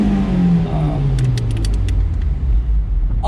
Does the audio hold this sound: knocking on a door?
no